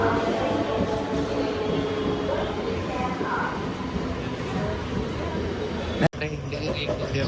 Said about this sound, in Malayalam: നമ്മുടെ ട്രെയിൻ വന്നിട്ടുണ്ട്